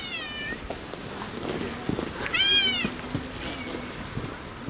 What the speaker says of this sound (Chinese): 一扇门，2种猫声，里面的小黑有暖气，外面的大中分只能在外面冷得哈气。